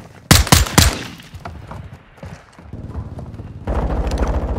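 Gunfire in the video game Call of Duty: Modern Warfare II: a loud, close burst of several sharp shots early on, then quieter scattered battle noise and a steadier rumbling clatter near the end.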